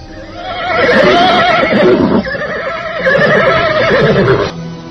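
Horse neighing loudly in an Indonesian radio drama, a long whinny with a brief dip midway, close and continuous, with no voices over it.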